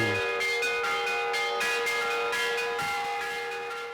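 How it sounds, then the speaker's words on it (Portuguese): A church bell rung from the church tower in Ukraine clangs loudly in repeated strokes, its long metallic ringing overlapping and sustaining throughout, close and resonant. "Nos deram a honra de subir na torre da igreja e tocar o sino"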